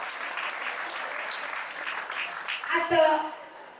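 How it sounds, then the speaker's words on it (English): Steady, fairly faint applause fills a hall at a musical extravaganza stage show in Navi Mumbai, then thins out as a voice or music rises briefly at the end. "huge round of applause for her"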